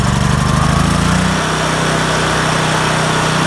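A portable generator's small engine runs loud and close after a pull-cord start, its steady buzzing drone settling slightly lower partway through as it keeps running.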